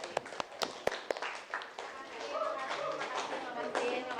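Classroom students clapping for their classmates, a few sharp separate claps at first, then a softer spread of applause with voices talking over it.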